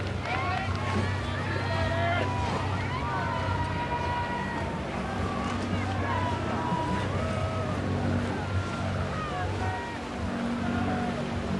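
A rowing eight passes close by a boom camera at Henley, oars and hull splashing over a rumbling water backdrop, with rhythmic strokes and faint squeaks and calls mixed in.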